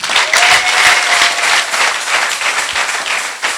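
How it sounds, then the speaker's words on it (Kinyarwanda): A church congregation bursts into loud, close applause for Jesus, a thick wash of clapping hands with a few faint voices or cries mixed in, lasting a few seconds. "mukomere Yesu amashyi"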